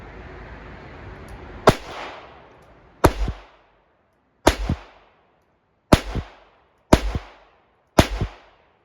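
Six gunshots from a Charter Arms Undercover .32 revolver firing PPU .32 S&W Long ammunition on a range, sharp loud reports spaced about one to one and a half seconds apart, each with a short echoing tail.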